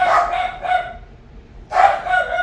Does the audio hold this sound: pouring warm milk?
no